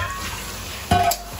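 Softened onions fry in a pan for a paneer curry, giving a steady low sizzle with a brief louder stir or clink near the end.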